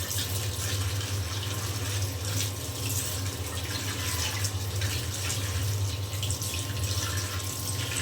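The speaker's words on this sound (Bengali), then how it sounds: "এখন খুব ভালো করে আমি একটু ঠান্ডা পানি দিয়ে ধুয়ে নেব।" Cold tap water runs steadily over noodles being rinsed in a sink, a continuous splashing rush with no voices.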